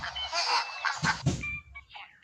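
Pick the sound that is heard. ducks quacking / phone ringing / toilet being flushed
ducks quacking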